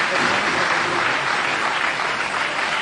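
A church congregation applauds together, a steady, dense wash of clapping that fills the whole stretch without pause, with no clear talk over it.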